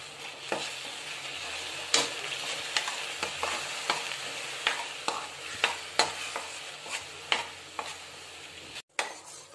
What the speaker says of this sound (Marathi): आपला पाक छान होतोय, 2-3 मिनिटं आपण अजून करून घेऊया।